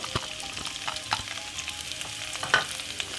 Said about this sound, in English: Give it a quick saute on a medium sized frying at the moment